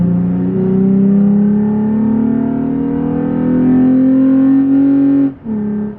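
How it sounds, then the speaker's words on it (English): A 2020 Toyota Tacoma fitted with a K&N cold air intake revs up loud and close, its engine note climbing steadily for about five seconds before dropping off sharply and briefly settling back. "It makes this truck really wake up and sound like it's got a big V6 under the hood."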